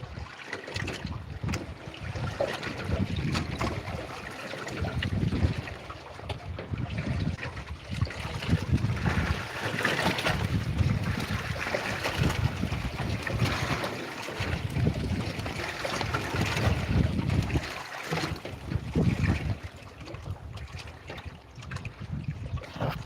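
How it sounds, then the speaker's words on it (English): Westerly-northwest wind blowing over a drifting fishing boat: a gusty, rumbling low roar that swells and fades in waves, with faint water lapping against the hull. "The wind's changed though, it's starting to come from this direction, which is a westerly northwest."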